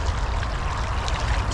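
Fast-flowing river water rushing steadily around a spot used for trotting for dace, a constant close broadband wash with no voices.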